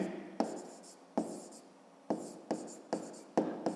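A pen writing by hand in a notebook while working a fifth-grade maths exercise makes close scratchy strokes in short bursts, with quiet pauses between them.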